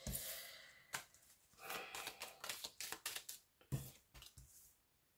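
A deck of playing cards being shuffled by hand: a burst of riffling followed by a run of soft irregular flicks and taps, close but quiet, with no talk.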